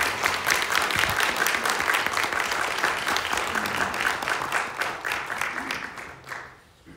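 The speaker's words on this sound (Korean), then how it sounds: "뜨거운 박수 부탁드리겠습니다." A seated audience at a Jeju business chamber lecture gives warm applause, dense clapping that carries on steadily and then thins out and fades at the end.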